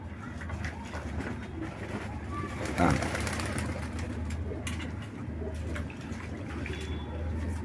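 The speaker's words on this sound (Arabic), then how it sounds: "بصوا الحمامه تستحمى ازاي." A pigeon bathes in water, with soft splashing and flapping against a steady background hum, while cooing comes from nearby birds and a brief louder splash rises near the middle.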